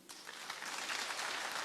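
An audience at a presidential state of the union address breaks into applause, a faint crowd clapping that swells and holds steady for under two seconds.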